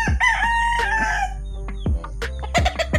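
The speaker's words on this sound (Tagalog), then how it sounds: "malaking manok" A large six-month-old rooster crows loudly and close by, a single long call followed by a few short clucks and squawks.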